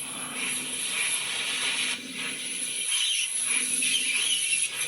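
Continuous high-pitched metallic flange squeal from a model steam locomotive sound system over a steady hiss, wavering slightly in pitch and loudness for several seconds.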